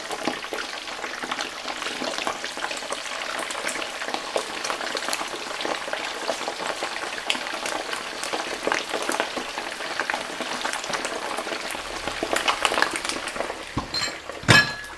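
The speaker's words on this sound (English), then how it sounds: "once the oil's hot enough, in go the ribs here" Pork ribs for Chinese sweet and sour ribs deep frying in hot oil, a dense, loud, continuous bubbling sizzle with light metal clinks near the end, no talking.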